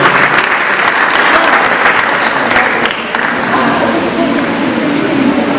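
Loud, sustained applause from a graduation crowd cheering graduating students at the Fajara Skills Development Center 2021 ceremony, dense steady clapping throughout with a brief dip near the middle.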